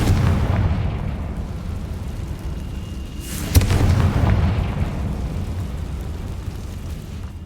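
A Confringo fire spell bursts in Hogwarts Legacy, a loud booming explosion with a sharp crack midway, rolling low rumble and debris noise before and after, no talking.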